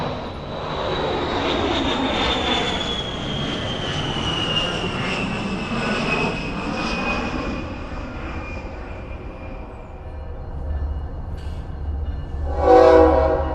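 An A-10 military jet flies overhead, a loud sustained engine roar with a high descending whine that slowly fades as it passes, followed by a brief burst of another sound near the end.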